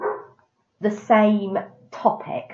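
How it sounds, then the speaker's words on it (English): A pet dog barks and whines in the background while someone talks over it, the barks mixed in with the speech at moderate loudness. "that's my dog barking in the background"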